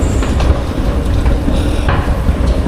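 Riding a Taipei MRT Blue Line train: a steady low rumble of the moving car with faint rattles and brief higher hisses, close and continuous over a short stretch.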